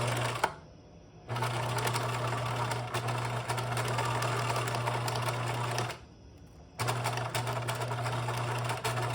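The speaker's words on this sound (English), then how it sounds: "and then I'm going to stitch. And I am going to back stitch this time." A sewing machine stitches a seam with a backstitch, running in two long steady whirring bursts separated by a short pause, close and fairly loud with a constant motor hum.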